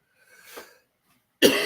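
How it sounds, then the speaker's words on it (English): A single cough comes through close and loud and cuts off abruptly, preceded by a softer breathy throat sound. "I got that cough still going."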